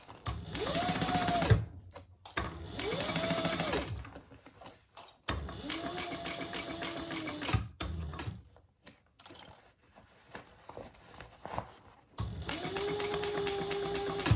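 A sewing machine top-stitches a crossbody bag in several short bursts of fast, even whirring, separated by brief pauses, close and clear.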